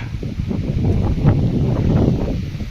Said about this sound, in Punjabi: ਅੱਜ ਹਵਾ ਬਹੁਤ ਚੱਲ ਰਹੀ ਆ